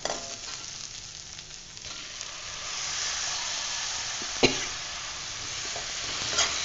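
Potato and cauliflower aloo gobi masala sautéing in a pan with added tomato, giving a dense, continuous sizzle and hiss and a couple of sharp spoon knocks against the pan, up close and without speech.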